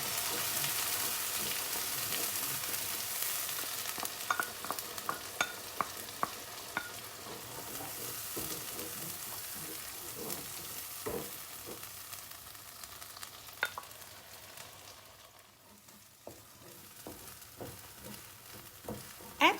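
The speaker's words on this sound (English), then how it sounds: "And fry the blended mixture until it's fragrant." Blended chilli and dried shrimp paste frying in a pan, giving a steady close sizzle throughout with scattered scraping clicks from stirring, and no talk.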